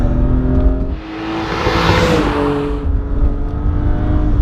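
A BMW E46 M3 with a Dinan S2 engine package drones loudly from inside the cabin while driving, with a steady engine tone that swells and eases as it pulls through the revs.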